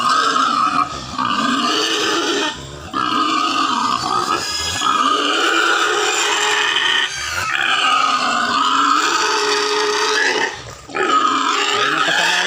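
Pigs grunting and snorting continuously up close, with occasional squeals and short pauses between bursts.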